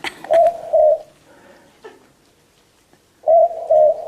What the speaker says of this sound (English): That is a boo-book owl.